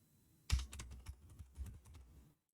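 Keystrokes clatter on a computer keyboard as a web address is typed, a quick burst of close, distinct clicks over roughly two seconds with no talking.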